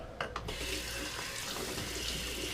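A razor is rinsed under a running sink tap during a shave in the Catskills: a steady, soft hiss of flowing water after a couple of brief clicks at the start, quiet and close.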